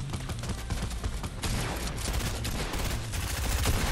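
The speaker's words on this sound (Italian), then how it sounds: "il bot si è incazzato e ha sparato me poi" Rapid bursts of automatic gunfire from a bot in a battle royale video game crackle steadily through the whole stretch, dense and continuous at a moderate level.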